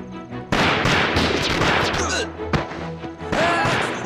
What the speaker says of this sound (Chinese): 别打了，别打了，省点子弹